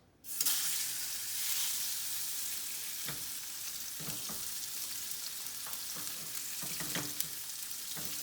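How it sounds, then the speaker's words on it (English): Steady loud sizzling of salmon searing in hot oil in a pan, with a few soft clinks and scrapes from the pan throughout. "next we're gonna sear our salmon"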